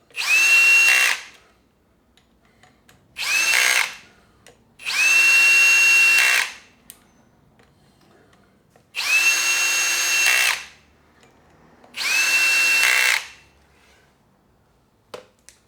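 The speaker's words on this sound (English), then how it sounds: "bolts in with a light tension on the drill." A power drill whirs in five separate bursts of one to two seconds each, driving bolts on a Kawasaki ZRX1200R motorcycle, with quiet pauses between, close and loud.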